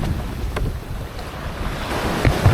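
Wind and ocean waves wash steadily around a small yacht under sail, a continuous rushing surge with a couple of heavier wave thumps near the end, close and fairly loud with no voices.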